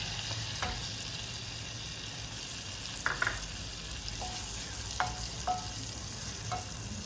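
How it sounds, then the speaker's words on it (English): Onion frying in a tablespoon of melted butter in a pan, a soft steady sizzle with a few light scrapes and taps of a utensil stirring. "Butter is melted. Onion goes first."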